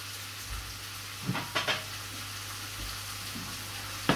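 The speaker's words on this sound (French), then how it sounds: "Pendant que les oignons cuisent, toujours à feu très vite." Chopped onions fry in a pan over high heat, giving a steady close sizzle broken by a few brief stirring scrapes and clinks, with no talking.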